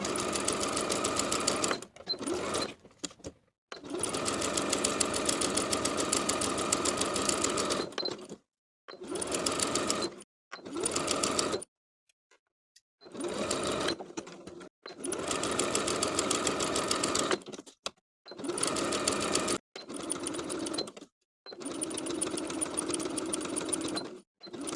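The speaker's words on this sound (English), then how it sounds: "Starting at the notch, sew with a 3/8 inch seam allowance, pivot along the bottom edge, then sew to the notch on the other side" Sewing machine stitching a knit T-shirt side seam and facing, pivoting along the bottom edge: repeated bursts of steady, close motor whirring separated by short pauses, with no talk.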